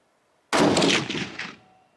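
A single loud rifle shot from a fluted medium-profile barrel cracks sharply at close range, then booms and rolls away in a long, fading echo across an open range.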